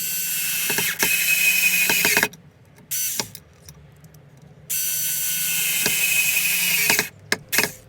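Steady whirring of a power screwdriver driving small hinge screws into a wooden box, in several bursts separated by short pauses, with a few clicks and knocks between runs.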